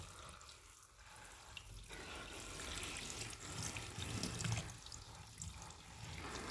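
Pumpkin leaves rinsed one by one under a running kitchen tap, a steady broadband gush of water with shifting splashes as the leaves are turned, continuous throughout and close by, with no talking.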